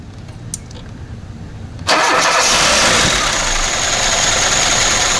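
A car engine fitted with a Solex carburetor idles quietly, then the starter cranks it and it catches abruptly, settling into a loud, steady running roar.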